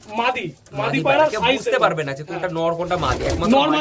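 Pigeons cooing in soft, low rolling calls at a pigeon sale, mixed under a person talking nearby for most of the stretch.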